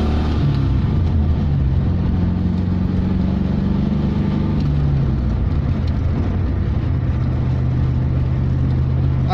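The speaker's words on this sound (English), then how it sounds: "I think it was built as a V8 purely because it sounds awesome." A Hyundai Stellar converted to a V8 engine runs with a steady, deep low rumble, idling evenly and close by with no talk over it.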